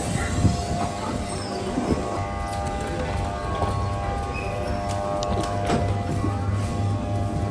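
Inside a moving passenger train in Portugal near Lisbon, a steady low rumble of carriages rolls on with faint rhythmic clatter and creaks, moderately quiet and continuous, no talk.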